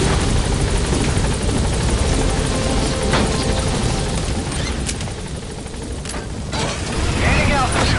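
The Pequod helicopter in Metal Gear Solid V sets down and lifts off, rotor whine and heavy thumping loud and close, dipping briefly mid-way before surging back up as it climbs away, with a few sharp mechanical clicks mixed in.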